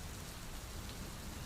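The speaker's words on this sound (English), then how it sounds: "but it was raining." Steady rain falls as a sound effect in a children's audiobook, a dense even hiss of drops hitting surfaces with no pauses or voices.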